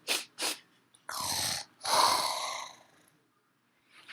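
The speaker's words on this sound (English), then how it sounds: "So it looks around, sniffs the air" A Cryolophosaurus dinosaur sniffs the air in a few short bursts followed by two longer breathy snorts, close and fairly loud, then trailing off into quiet.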